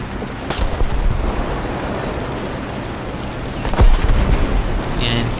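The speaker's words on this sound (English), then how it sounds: "Start shelling. Artillery, feuerbereit." Artillery shelling in the War Thunder video game: deep distant booms rumble under a steady noisy battlefield bed, with one sharper, louder impact near the end.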